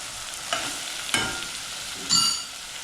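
Tomato, capsicum and green chili frying in a pan, a low sizzle under a few short spatula stirs and scrapes, close and brief.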